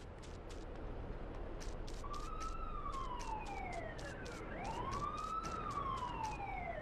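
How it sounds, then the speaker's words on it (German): Police car sirens in the video game GTA2, a rising and falling electronic wail that sweeps up and down twice over a steady rumble of traffic and engine noise, with no talking. "Wir hören die Sirenen"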